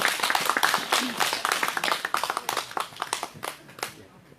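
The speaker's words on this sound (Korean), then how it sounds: "큰 박수로 모시겠습니다" A crowd at a Wednesday protest rally in Soseong-ri claps in a loose, uneven burst of hand claps, fairly close and moderately loud, with voices mixed in underneath.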